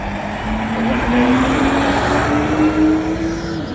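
A garbage truck rumbles past on a street with a loud, steady engine drone and a slowly rising tone, close and dominant, with no one talking.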